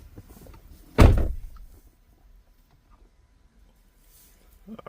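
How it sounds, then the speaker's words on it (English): A 2014 Chevrolet Silverado door shuts with a single loud, solid thunk and a short rattle, followed by near silence and a faint later knock. "Open and close the doors."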